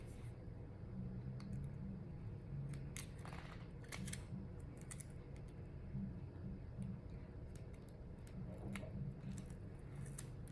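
Small scissors trimming an eyebrow mapping sticker near the brows, faint quiet snips scattered over soft background noise, close but low in level.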